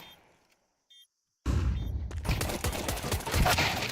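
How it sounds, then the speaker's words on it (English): Gunfire in a professional Counter-Strike esports match. After near silence with a couple of faint blips, a dense burst of rapid automatic shots breaks out and keeps rattling loudly to the end, with no talking. "now they're just firing off bullets"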